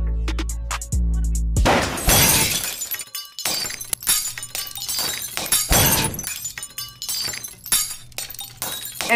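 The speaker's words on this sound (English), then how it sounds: "All you see is, all you hear is glass break." A glass-breaking sound effect crashes in sharp, loud bursts of shattering with tinkling debris, recurring several times after a low rumble opens the sequence, with no talk over it.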